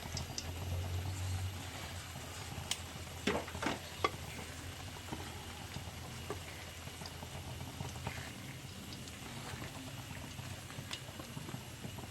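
Scored, spice-coated mackerel fries in a pan with a faint, steady sizzle, broken by a few soft clicks and taps as the pieces are set down.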